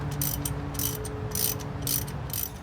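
A ratchet wrench turns bolts loose while a turbo comes off a 2009 Chevrolet Cobalt SS, sounding as about five quick, close bursts of rapid pawl clicking with short pauses between them.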